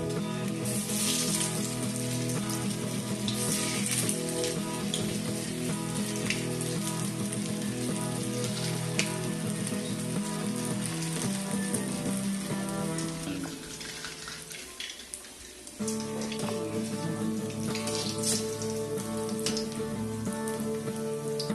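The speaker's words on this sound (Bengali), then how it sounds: "তেল গরম হলে তৈরি করে রাখা বল একটা একটা করে ভেজে নেব।" Vegetarian bread balls deep-fry in hot oil in a wok, giving a dense, continuous crackling sizzle close up, briefly dipping and thinning before returning at full strength.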